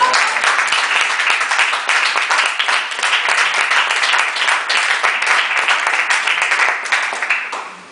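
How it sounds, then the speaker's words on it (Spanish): An audience at a book presentation claps in dense, sustained applause that holds steady for several seconds before tapering off slightly at the end. "Un aplauso, por favor."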